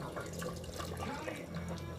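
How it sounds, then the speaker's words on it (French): Broth pours into a cooking pot of vegetables, a soft continuous splashing trickle, close but quiet, lasting a couple of seconds. "J'ajoute un peu de bouillon."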